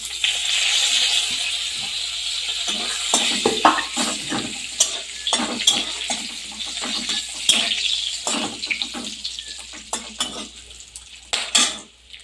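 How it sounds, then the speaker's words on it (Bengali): Whole garam masala, cinnamon, cloves, cardamom and bay leaf fry in a pan for a pointed gourd and prawn dish, a soft sizzle under repeated clinks and scrapes of a utensil stirring against the pan. "এবার ফোড়নের জন্য দিয়ে দেবো গরম মশলা, দারচিনি, লবঙ্গ আর এলাচ আর তেজপাতা"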